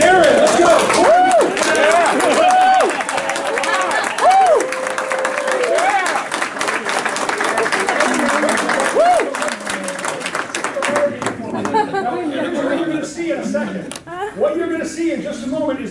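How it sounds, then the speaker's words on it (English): Audience applause and cheering as people are welcomed onto a stage, sustained clapping from a crowd with whoops and shouts on top, while a presenter talks over the noise throughout. "let's practice that kind of a raging, roaring round of applause"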